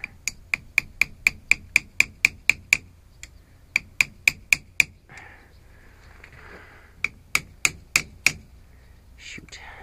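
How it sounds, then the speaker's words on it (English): Sharp metallic hammer-plier blows strike the wheel hub of an IH Hydro 84 tractor during wheel bearing removal, delivered in fast rhythmic bursts of a dozen or so strokes with short pauses, close and loud, with faint rustling between. "Yeah, the good old hammer pliers."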